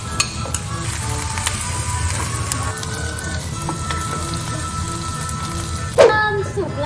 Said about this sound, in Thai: แล้วก็จะเอากะปิเทลงไปนะคะแล้วก็ผัดให้สุกค่ะ